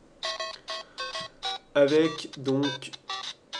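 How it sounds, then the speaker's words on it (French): Super Mario theme playing as an iPhone ringtone, a bright electronic melody of short repeated tones heard up close, with someone speaking briefly partway through. "vous aurez donc la sonnerie de Super Mario"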